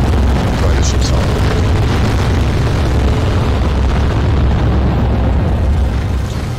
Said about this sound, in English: This is only the small explosion.